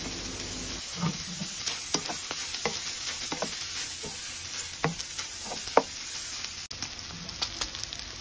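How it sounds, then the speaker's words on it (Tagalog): Pork frying crispy in its own rendered fat for a Filipino dinuguan, sizzling steadily up close with repeated stirring scrapes and small pops, no voices. "Parang pinirito sa mantika, yan, sa sarili niya mantika."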